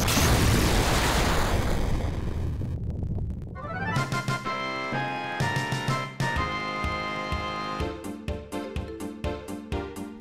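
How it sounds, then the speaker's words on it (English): A broad rumbling blast roars for a few seconds, then gives way to a run of sharp synthetic hits and bursts, like game explosions mixed with music, from a Final Fantasy VIII boss fight. "Explosions! Even more."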